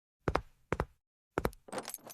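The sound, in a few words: keys jangling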